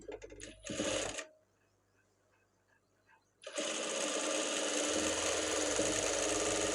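A sewing machine runs a straight seam on a blouse in two bursts: a short whirring run, a near-silent pause, then a longer, steady, loud stretch of rapid stitching.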